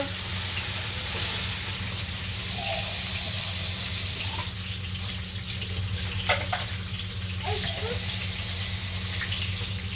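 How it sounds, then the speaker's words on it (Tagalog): Water runs into a cooking pot for tinola, a steady soft pour with faint splashes and a few small clinks over a low background hum. "And then, let's put water."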